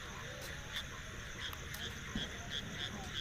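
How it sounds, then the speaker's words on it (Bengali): Frogs croak and crickets chirp together at night in a quiet, isolated spot, a faint steady insect trill with regular repeating calls running throughout, fairly distant and low in level. "ঝিঝি পোকা ডাকছে, ব্যাঙ ডাকছে শোনা যাচ্ছে,"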